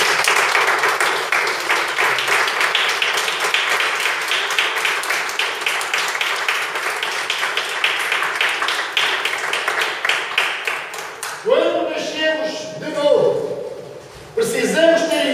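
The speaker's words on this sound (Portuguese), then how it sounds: "dava uma salva de palmas a Deus" A church congregation claps steadily for about eleven seconds, a broad even wash of applause, before a voice speaks over the fading clapping.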